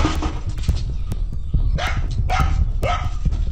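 A dog barks several times in short bursts while chasing rats together with a cat, the yelps close and loud over a busy background scuffle.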